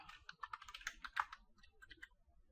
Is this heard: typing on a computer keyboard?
yes